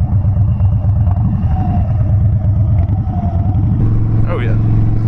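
Harley-Davidson Dyna Wide Glide motorcycle rumbling loudly through loud pipes, a steady low throbbing engine note close by with a rev rise near the end, a voice talking over it.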